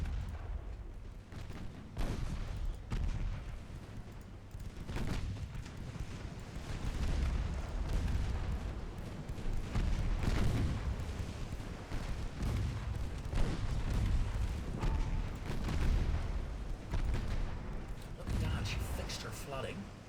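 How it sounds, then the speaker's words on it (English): Warship guns fire at will in a naval battle in the game Ultimate Admiral Dreadnoughts, with repeated heavy booms and rumbling blasts rolling over one another throughout, sustained and loud. "all guns fire at will"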